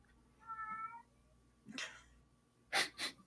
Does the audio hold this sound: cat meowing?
yes